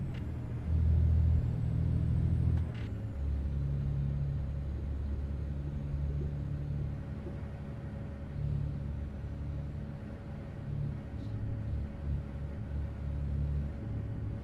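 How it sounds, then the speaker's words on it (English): A heavy modded truck engine in a video game rumbles steadily at a low pitch on a snowy winter road, with a brief louder surge near the start and no talking. "This truck sounds amazing, man."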